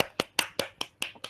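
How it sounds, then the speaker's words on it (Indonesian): A handful of people clap at a small talk event, about six sharp, evenly spaced claps close together, no voices over them. "Tepuk tangan dulu semua, tepuk tangan."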